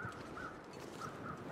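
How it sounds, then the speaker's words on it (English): Crows caw in the wilderness of the survival video game The Long Dark, a few hoarse calls spaced out at a distance, faint over a soft wind-like ambience, with nobody talking. "Couple of birds flipping and flapping around."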